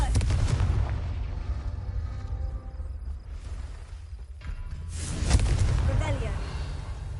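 Confringo blasting spell explosions in Hogwarts Legacy sound as loud booming blasts with crackling debris, one at the start and another near the end, separated by quieter rumbling.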